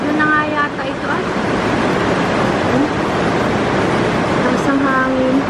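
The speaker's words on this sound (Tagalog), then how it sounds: "At lakas ng ulan, parang bagyo oh." Heavy rain with wind, like a typhoon, pours down as a loud, steady broadband roar with no pauses, with faint voice-like tones showing near the start and end.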